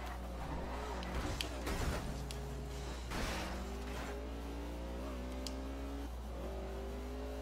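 Racing cars in the video game Forza Horizon 2, steady engine drone with rising and falling revs and gear shifts, a few tire squeals and bumps, continuous and moderately loud with no speech.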